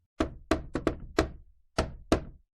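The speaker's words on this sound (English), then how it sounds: "At that moment, there was a knock on the front door" Knocking on a front door, seven firm raps in two groups with a short pause between them, close and clear against silence.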